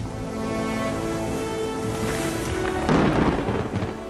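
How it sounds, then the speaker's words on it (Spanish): A thunderstorm in a historical documentary about the Spanish Armada: a steady roar of rain builds for a few seconds, then a loud crack and rumble of thunder breaks in near the end. "Cuando las tormentas fuerzan a las baqueteadas naves de Hawkins a buscar abrigo en un puerto mexicano"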